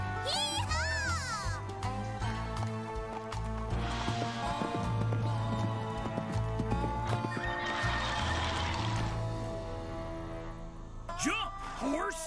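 In an animated children's cartoon scene, a horse whinnies loudly several times while its hooves clatter along, with excited character voices and a music score layered over the action.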